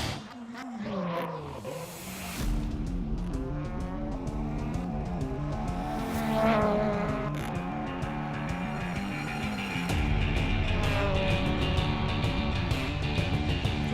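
A BTCC touring race car on its qualifying out-lap at Oulton Park International, its engine droning and shifting pitch steadily through gears, heard at length under race commentary.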